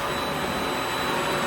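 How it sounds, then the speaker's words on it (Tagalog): A vacuum cleaner runs with a steady, loud, unbroken whine and roar indoors during a home hair treatment session, close by and alone without voices. "Vacuum ka lang naman."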